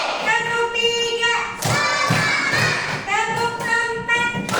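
A primary school class claps rhythmically in the classroom, sharp hand claps landing in a steady beat while children's voices chant along in unison between and over the claps.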